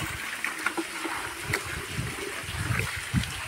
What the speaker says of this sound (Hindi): इसमें हम पानी डालने वाले हैं अभी।